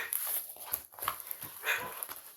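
A small pet dog whimpers softly indoors, a few faint, high, breathy whines in quick succession, close by and alone.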